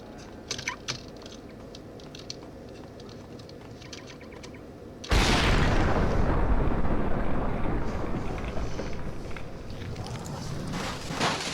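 A grenade goes off with a sudden loud blast in the video game Max Payne, bursting out of quieter clicking and gunfire, then rumbling on as a long, fading roar.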